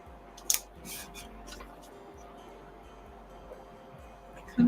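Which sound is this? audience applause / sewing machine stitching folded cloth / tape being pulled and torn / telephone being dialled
tape being pulled and torn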